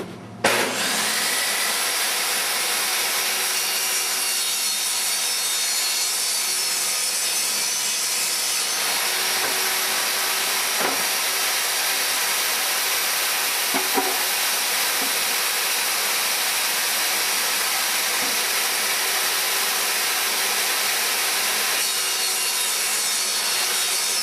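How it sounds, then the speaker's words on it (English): A saw cuts 13 inches off a wooden board during a cabinet installation, giving a long, steady, even rasp with faint scrapes and knocks and no pauses. "My top and bottom board, I'm going to cut 13 inches off of that."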